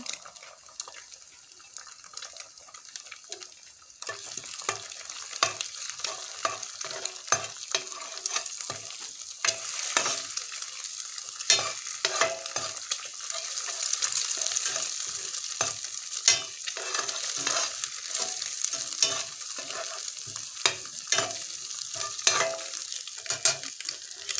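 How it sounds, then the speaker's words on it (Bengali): An egg fries in a pan for noodles, a quiet start giving way to steady sizzling with repeated scraping and stirring strokes against the pan, close and continuous, no voices. "ডিমটা ভাজা হয়ে গেছে"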